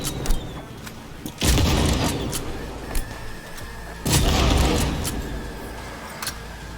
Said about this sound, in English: I'm gonna preemptively just blow those up